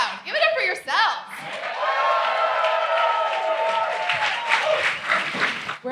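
A live comedy show audience bursts into loud applause and cheering that builds and holds for several seconds, with voices shouting and whooping over the clapping.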